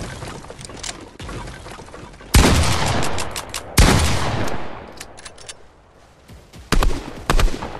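Fortnite video game gunfire sounds loud and close, with sharp shots and rapid fusillades in bursts and a dense roaring stretch in the middle.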